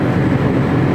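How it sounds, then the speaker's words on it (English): Mercedes Actros HGV truck engine drones inside the cab, a loud, heavy low rumble held steady over one second with no clear change audible and no voices. "Hear the engine change."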